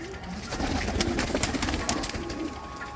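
A female pigeon coos close by, repeated low throaty calls over a busy background of rustling and scattered clicks.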